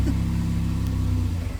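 A Ford EcoBoost car engine runs steadily at its first startup, giving a continuous low hum that wavers slightly toward the end.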